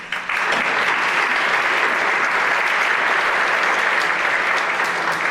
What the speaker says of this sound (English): So I'd like to give a round of applause for the parents.